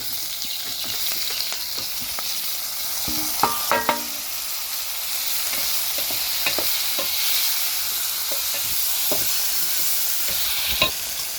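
Tomato frying in a pan with garlic and ginger paste for a quick prawn biryani, a steady loud sizzle with a few scraping stirs of a utensil, close and continuous, no voices.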